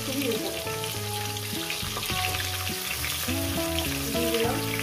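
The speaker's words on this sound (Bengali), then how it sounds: "পেঁপে, একসঙ্গে সবজিগুলো দিয়ে ভেজে নেব।" Pieces of papaya and other vegetables fry together in a hot pan, giving a steady close sizzle under background music.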